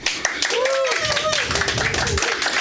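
An audience at a Wacky Wednesday gathering claps loudly, a dense burst of hand claps with raised voices and shouting mixed in over the short stretch.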